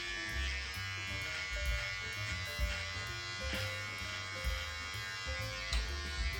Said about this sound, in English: whenever you're shaving your mustache or your beard in here with a trimmer